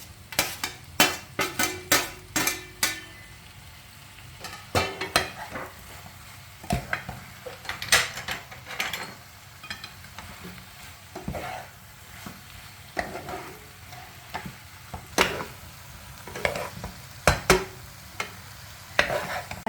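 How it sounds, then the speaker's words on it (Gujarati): Potato wedges being mixed into a vegetable stir fry in a pan, a soft sizzle under repeated sharp clacks and scrapes of a metal spoon against the pan, irregular and close, with no talk. "સ્ટર ફ્રાય ચડી ગયું હતું ને એટલે ચાર્મીએ પોટેટો વેજીસ જે બનાવી હતી ને મિક્સ કરી દીધી છે"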